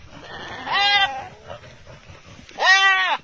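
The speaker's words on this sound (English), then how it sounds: "goats are some vicious creatures" A goat bleating loudly twice, each a long wavering cry, close and clear with a short pause between the calls and no talking over them.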